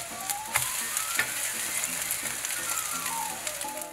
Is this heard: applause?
no